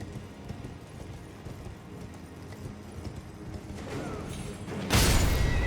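Horse hooves clop steadily in Elden Ring Shadow of the Erdtree, a galloping rhythm under game ambience that swells near the end with a loud burst of noise.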